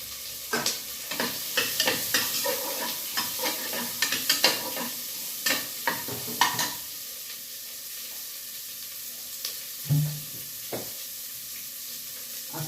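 Chopped onions fry in a pan for an upma of broken wheat, with a steady sizzle broken by repeated scraping stirs of a spoon, busy at first, then easing into a quieter hiss.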